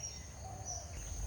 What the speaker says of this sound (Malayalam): പക്ഷികളെ സൗണ്ട് ഹെവി അല്ലേ?